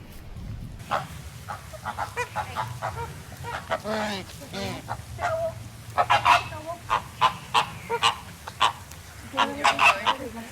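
Flamingos being hand-fed at a Florida attraction honk and gabble in short, repeated nasal bursts, close by and fairly loud, with people talking faintly in the background.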